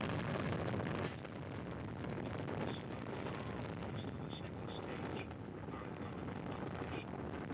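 Distant Soyuz rocket roar during launch toward the International Space Station, from four boosters and a single engine: a broad, steady rumbling wash with brief faint tones over it.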